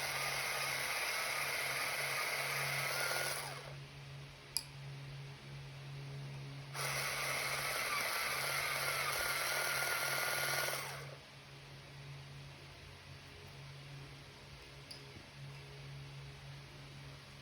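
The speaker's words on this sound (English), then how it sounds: "let me sharpen this one. And let's sharpen" Colored pencils being sharpened in two bursts of close, steady whirring grind, each lasting a few seconds, separated by a quiet pause over a faint hum.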